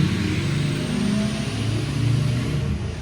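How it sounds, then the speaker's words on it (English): A loud truck engine rumbles past on the road, a heavy low drone that swells and fades slightly over a few seconds, with no talking. "that truck was mad loud."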